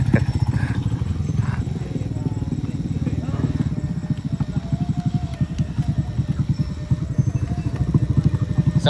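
Motorcycle engines idling and revving at a busy rest area on a new mountain road, a rough pulsing low rumble running throughout with people talking nearby.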